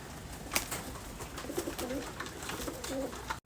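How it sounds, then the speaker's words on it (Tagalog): Pet pigeons feed on grain in a loft, giving soft low cooing calls over scattered pecking taps and light rustling, close and fairly quiet. "Tingnan nyo naman kung gaano nila tukain yung patuka mga kalapatids, oh."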